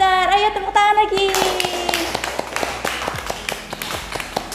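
Children clap their hands together in a classroom, a run of sharp, fairly loud claps that starts after a short stretch of children's voices and continues in an uneven rhythm.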